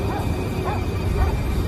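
A dog gives short, whiny yips and whimpering barks, close and fairly loud over a low background rumble, with three quick calls in under two seconds.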